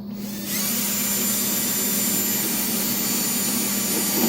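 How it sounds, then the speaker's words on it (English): A drill spins up and runs continuously boring a hole in a plastic detergent container, with a steady, high-pitched motor whine, loud and close, without any talking. "I'm going to drill one over here."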